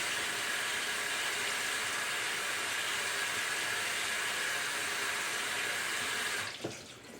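Water runs steadily into a kitchen sink while cooked food is drained, a constant even hiss that cuts off near the end with a faint clunk.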